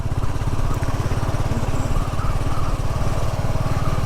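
A Royal Enfield Classic 350 single-cylinder engine thumps steadily while riding, a rapid, even low-pitched pulse under wind noise, close and loud throughout with no voices.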